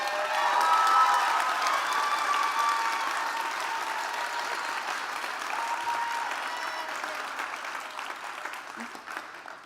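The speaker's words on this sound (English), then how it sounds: "Please give a round of applause to Nathan." An audience applauds after a talk at a speaker event, with steady crowd clapping and a few scattered cheers and whoops at the start, gradually fading over about ten seconds.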